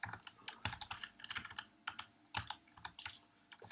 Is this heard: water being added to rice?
no